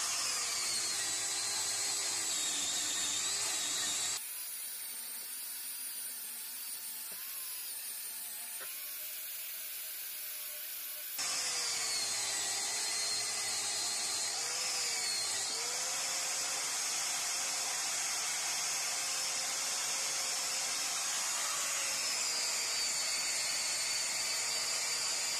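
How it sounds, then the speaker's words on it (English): Knotted wire brush on a power tool stripping tough paint from a Record 74 vise: a steady, close, high-pitched whirring hiss that shifts in pitch as it bites into the surface, with a lighter stretch partway through. "I'm using a knotted wire brush to strip through the paint really quickly"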